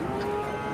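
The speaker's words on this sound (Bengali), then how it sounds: "অস্ট্রেলিয়ান জাতের ষাঁড় বাচ্চা।" Australian breed bull calf, about seven to eight months old, lowing once at a busy cattle market, a short close moo over a low murmur of background noise.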